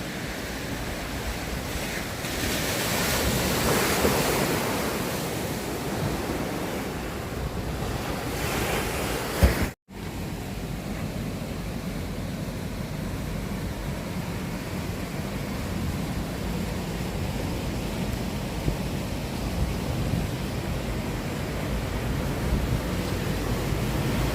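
Sea waves wash steadily onto the shore at Hua Hin beach in Thailand, a continuous broadband surf roar with wind buffeting the microphone and one sharp dropout partway through, no voices.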